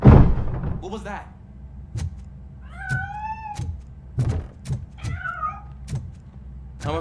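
A cat meows repeatedly in RoboCop: Rogue City, several rising, wavering cries spaced between sharp thuds and clicks, fairly close and clear, with a low steady hum underneath.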